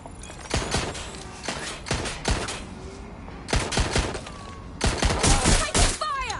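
Gunfire in the video game Watch Dogs Legion comes in sharp bursts of rapid shots, with loud clusters of cracks separated by brief pauses.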